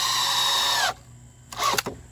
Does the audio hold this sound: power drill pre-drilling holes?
yes